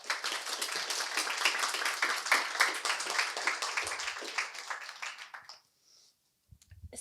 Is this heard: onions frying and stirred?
no